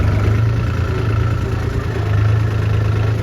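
A Massey or New Holland tractor engine runs steadily while stuck in a muddy field, a loud, continuous low droning hum with no change in pace.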